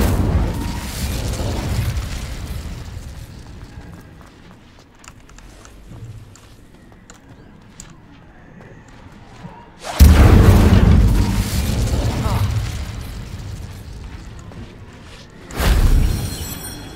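Incendio fire spell blasts in Hogwarts Legacy hitting rocks: two loud, deep booming bursts, the first a sustained roar and the second shorter, over quieter rumbling game ambience.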